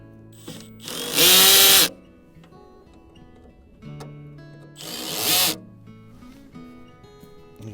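A power drill tightens screws on a mailbox in two short, loud whirring bursts separated by a few seconds of quiet handling and light clicks.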